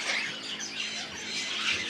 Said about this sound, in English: that's why we have a lot of birds here